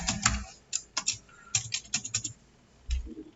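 Keystrokes on a computer keyboard as a password is entered for an online banking login, in irregular bursts of close, crisp clicks with short pauses between groups.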